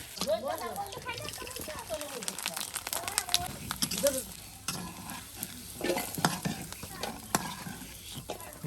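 Beef coated in hand-ground spices fries in oil in a Bangladeshi village kitchen, with a crackling sizzle under repeated scraping, clattering stirs up close, and voices speaking at times.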